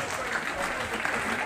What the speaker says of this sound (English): A big round of applause for the boys at Lower Stuff Boxing Club.